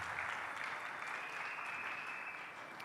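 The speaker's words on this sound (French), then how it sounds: "Acclamons à présent très fort la parole." A church congregation at a New Year's Day service applauding, dense sustained clapping with cheering that fades slightly at the end.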